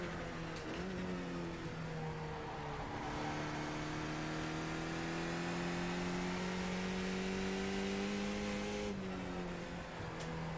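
A race car engine in iRacing revs loudly and steadily, pitch climbing through the gears with sharp shifts, an unbroken close-up mechanical whine on a long lap.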